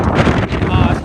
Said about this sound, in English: Ooh, very windy.